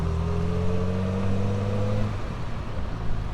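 A 1967 Triumph Vitesse drives along country lanes around Wormingford, its engine a steady mid-range drone with a rising whine that drops away near the end, close and continuous with no voices.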